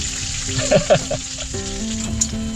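Continuous sizzling of food frying in hot oil inside a camper jeepney, a close crackling hiss with brief muffled voices and a few clinks over it.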